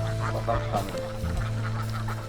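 Several ducks on a farm of about six hundred quack and honk close by, overlapping calls from a flock, steady throughout.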